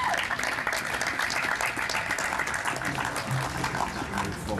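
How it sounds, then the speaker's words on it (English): An audience at a Memorial Day ceremony applauds a World War II veteran, sustained dense clapping at close range with faint voices mixed underneath. "Please give him a round of applause."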